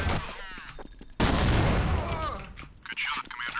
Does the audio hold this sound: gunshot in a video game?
yes